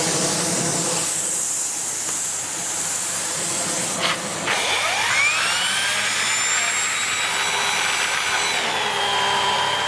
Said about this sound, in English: We'll just show you with the turbo tool on the end.